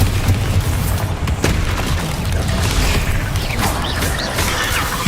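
A Bombarda spell explosion in Hogwarts Legacy gameplay booms heavily inside a dense, continuous wash of game noise and effects, with no clear gaps throughout.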